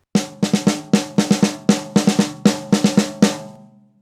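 Drum kit fill built on an inverted Herta pattern displaced by an eighth note, a quick run of about fifteen close, loud hits in grouped triplet-like bursts with cymbal wash, ringing out alone at the end.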